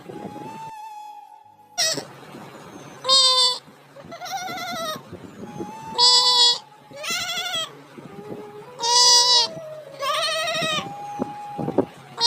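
A cartoon goat bleats in a string of about seven loud, wavering cries, separated by short gaps filled with quieter background sounds.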